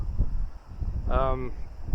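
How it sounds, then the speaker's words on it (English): Wind on a grey, open coastline across from France buffets the microphone in low, uneven rumbling gusts, close and fairly loud, with a short voiced sound rising briefly in the middle. "It is windy, but nothing like as windy as it was Thursday, Friday."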